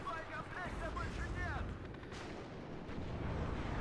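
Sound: artillery units firing at an ordered target in the video game WARNO

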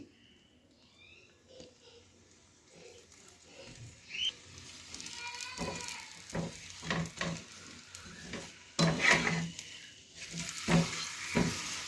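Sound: paratha frying in oil in a pan

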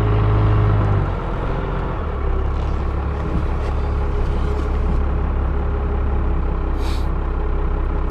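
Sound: 1997 Dodge Ram 3500 truck engine while driving and shifting

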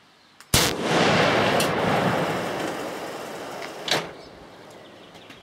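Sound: 338 rifle shot with no muzzle brake fitted

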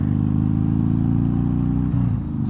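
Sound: motorcycle engine while riding

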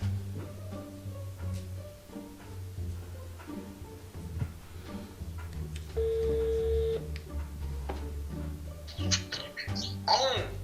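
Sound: telephone dialing and ringing

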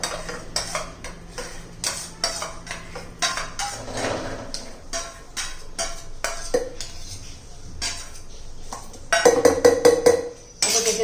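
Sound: ingredients put into mixer jar

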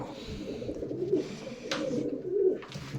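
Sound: pigeons in a pigeon loft

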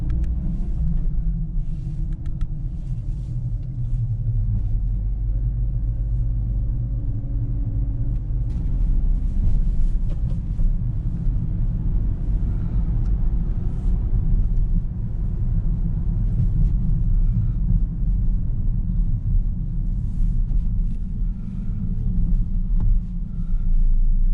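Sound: Toyota car driving along a route

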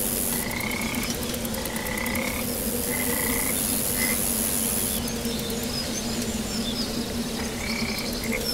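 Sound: frog sounds in the video game Epistory

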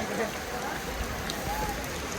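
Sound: heavy rain

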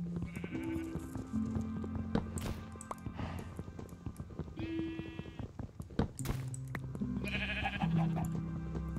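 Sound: sheep bleating in Minecraft Oneblock, video game

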